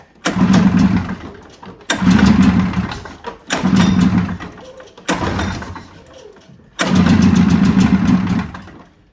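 A 1986 Arctic Cat El Tigre 6000 snowmobile engine roars loudly and close in five throttle bursts, each lasting one to two seconds, with short drops to near quiet between them.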